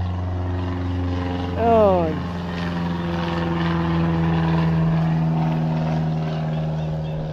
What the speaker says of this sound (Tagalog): Papansin nyo, may mga eroplano lagi. May eroplano.